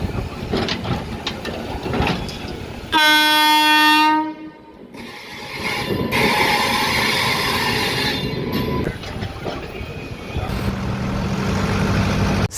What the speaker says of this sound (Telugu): ప్రజెంట్ అయితే మనం సికింద్రాబాద్ రైల్వే స్టేషన్లో ఉన్నాము